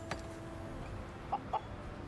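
Chickens cluck briefly in two short calls over a quiet background hum in the video game Surviving the Aftermath.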